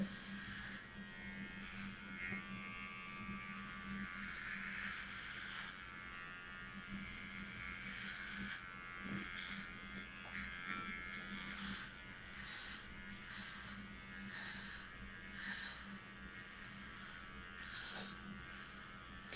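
Electric hair clipper buzzing steadily while shaving a head down to zero, a close, continuous drone running without a break.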